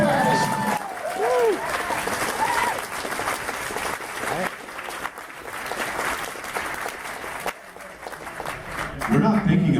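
An audience at the Nightmare Nights Dallas convention breaks into sustained applause, a dense wash of clapping with some cheering and voices mixed in, swelling again at the end.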